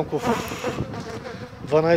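Honey bees buzz around an open hive during a spring inspection, a close, wavering drone that swells and fades, with a louder burst near the end.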